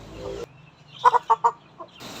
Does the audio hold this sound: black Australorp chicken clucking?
yes